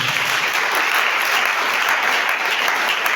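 A church congregation applauds in praise of Jesus, a dense, even wash of clapping from many hands that holds steady at full strength for the whole stretch, with no voices standing out.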